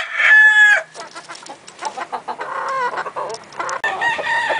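A white hackle gamecock crows loudly and close at first, then breaks into a string of varied clucks and short calls, with other fowl sounds mixed in.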